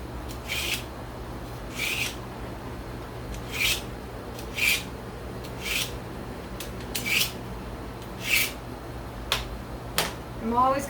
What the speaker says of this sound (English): I'm going to sharpen my knife real quick before we get started.